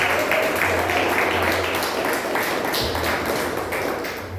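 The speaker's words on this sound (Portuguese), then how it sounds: "Receba o servo de Deus, com palmas que merece o nome do Senhor Jesus" A church congregation applauding a preacher with dense, sustained clapping from a crowd that stays loud throughout, with some voices mixed in.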